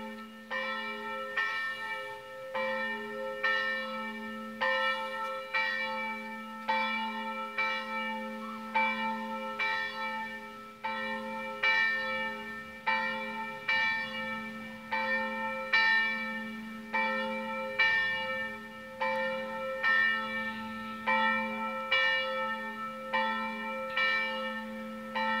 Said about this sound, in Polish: I pięknie dzwony biją, piękna akustyka.